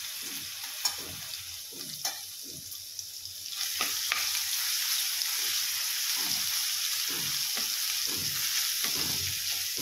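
Cumin seeds and garlic fry in a pan for a kartule (spiny gourd) dish, a steady sizzle that grows louder partway through, with repeated scraping stirs of a spoon in the pan; no one speaks.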